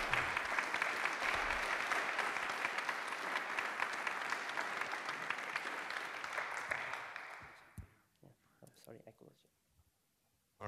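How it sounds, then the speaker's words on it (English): Audience applause at a 1 Million Cups startup pitch event in Kansas City, a dense, sustained clapping from a room full of people that carries loudly for about eight seconds before thinning out into a few scattered claps. "So I think we should give a round of applause for everyone who's here"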